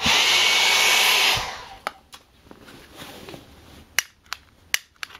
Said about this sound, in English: What I need it to do is I need it to do one pulse and then suck in more air for the next one.